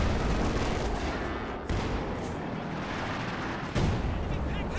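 An artillery barrage in the WWII strategy game Company of Heroes 2, heard as a dense continuous rumble of distant blasts and booms with a couple of sharper impacts.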